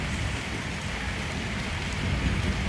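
Steady rain pours down across the whole moment with a constant broad hiss and dense patter, fairly loud and unbroken, with no voices over it.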